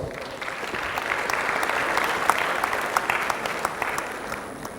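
A seminar audience gives an award winner a warm round of applause: continuous, fairly close clapping from a sizeable crowd with distinct sharp claps popping out, holding steady throughout.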